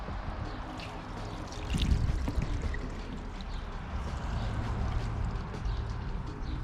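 Water is poured in a wave over a ceramic-coated car roof during a wash, a steady, close splashing and trickling rush that swells briefly partway through and continues evenly, with no talk.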